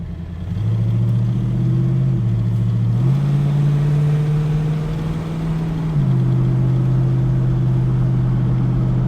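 A 1937 Buick street rod, running low on coolant, drives around the block with its engine droning loud and close, pitch stepping up through gear changes in a steady rumbling tone.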